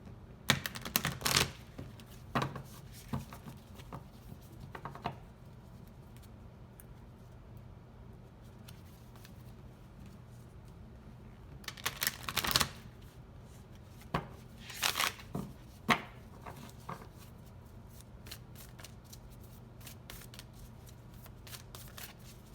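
Tarot cards being shuffled in repeated crisp bursts, riffling and flicking close by, with quieter handling and pauses between rounds.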